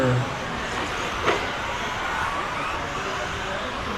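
Tamiya TT02 radio-controlled cars race in a GT spec qualifying heat at an indoor championship track, a continuous dense motor whir and hiss with a faint rising whine midway.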